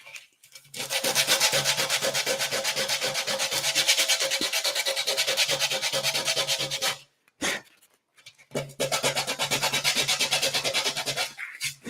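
Steady, abrasive sanding of a tank with a powered sander hums and rasps continuously, breaking off briefly near the end before resuming at the same loud level.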